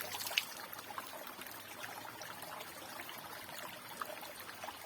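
Faint water trickles and splashes softly as a face is washed in a forest pool, with gentle irregular drips and a small splash near the start, quiet and unhurried.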